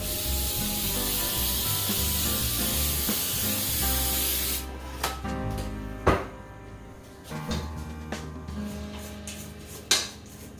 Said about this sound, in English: And we cover with the baking spray.